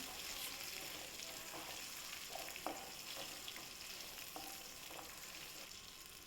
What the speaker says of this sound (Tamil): ஒரு 5-6 முந்திரி பருப்பு சேர்த்திக்கலாம். சேர்த்திட்டு அதையும் நம்ம வறுத்துக்கலாம்